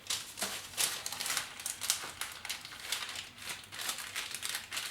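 Paper, likely parchment for lining a chocolate cake tin, is folded into a triangle: close, continuous crinkling and rustling with sharper creases in uneven bursts, no talk.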